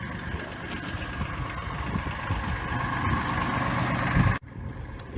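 A farm tractor engine runs steadily near moldy hay bales, a close, rumbling idle that holds for several seconds before a sudden break.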